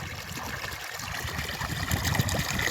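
Irrigation water runs into a flowering fenugreek field, a steady close trickling and gushing flow that stays even throughout.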